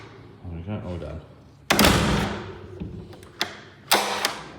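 A seized door is prised open with heavy thuds and a sharp bang, followed by two more clunking knocks and rattling, loud and close, after a short stretch of talk.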